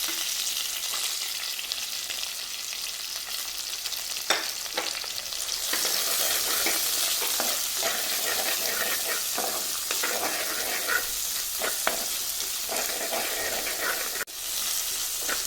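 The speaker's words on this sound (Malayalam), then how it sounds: "ഇത് നന്നായിട്ട് വഴറ്റണം." Small shallots and half an onion frying in oil in a pan for a fish curry, a continuous loud sizzle broken by repeated scraping stirs, with no talk over it.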